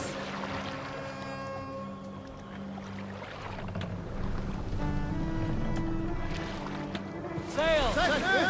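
A Viking longship under sail on the waves in Assassin's Creed Valhalla, with water washing and wind around the hull and crew voices calling out over the sea.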